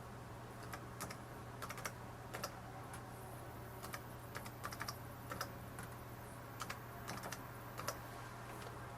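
A Wi-Fi password is typed on a laptop keyboard in quiet, irregular bursts of light key clicks over a faint steady hum, close and without talk.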